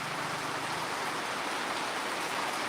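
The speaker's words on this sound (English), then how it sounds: "otherwise I would be stuck in this rain" Steady rain falling outdoors, a dense, even hiss that stays constant and fairly loud throughout, with no voices.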